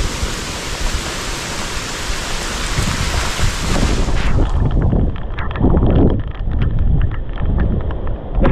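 Heavy rain pouring during a frightening storm with strong wind, a dense continuous hiss that shifts to a lower, rougher roar midway, loud and without talk.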